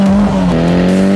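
Cammed, carbed Peugeot 205 GTi stage rally car at close range, a loud high-revving engine with a strong steady tone that briefly dips and climbs again as it shifts.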